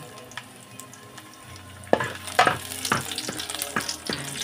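Garlic frying in a pot for a simple sardine and tomato dish, a soft sizzle rising after a sharp start with repeated stirring scrapes and clatters up close, no talking.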